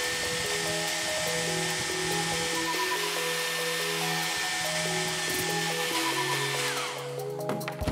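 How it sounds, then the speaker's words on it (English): A hairdryer blows a continuous, steady whooshing stream of air between two ping pong balls, close and moderately loud with a constant motor hum, no talking. "we're going to take the hairdryer, we're going to position it in between the 2 ping pong balls and turn it on"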